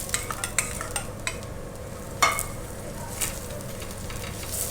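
A paratha fries in ghee on a hot pan with a continuous soft sizzle, broken by occasional light scrapes and taps of a spatula, close and fairly quiet.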